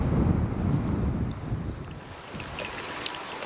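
Wind gusts across a microphone outdoors in the Arkansas Ozark National Forest, a loud low rumbling buffet that is strongest at first and eases slightly, continuous with faint higher crackles.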